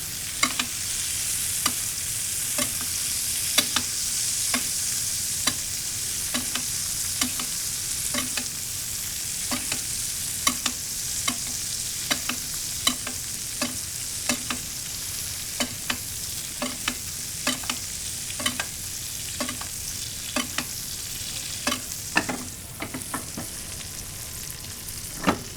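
A good steak sears in a pan with butter and garlic, giving a steady loud sizzle broken by regular clicks and taps of basting or stirring, with no voices.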